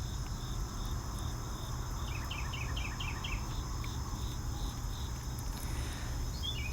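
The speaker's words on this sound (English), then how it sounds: "at least you've got some nice bird sounds in the background today." Outdoor background with a steady chorus of crickets and insects, plus a short run of bird chirps in the middle, all fairly distant under a constant low rumble.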